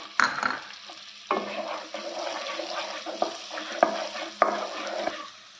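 Garlic, ginger and chilli sizzle in butter in a pan for masala pav, a soft frying hiss broken by a few scraping stirs and light clinks of a spoon, close and fairly quiet.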